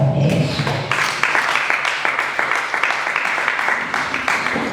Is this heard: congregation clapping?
yes